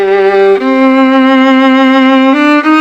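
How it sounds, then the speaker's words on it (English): A bowed viola holds steady, rich sustained notes, changing pitch a few times, loud and close with no other sounds. "That sound is produced by a viola."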